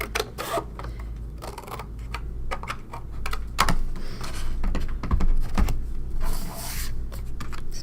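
Scissors snip through paper during a watercolor stamping craft, giving a quick run of crisp, close clicks and cuts over a steady low room hum.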